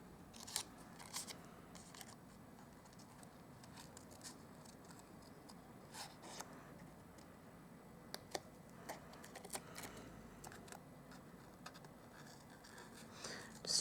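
Scissors trim a handmade greeting card, making faint, close snips and small clicks scattered sparsely across a quiet stretch, with no talking.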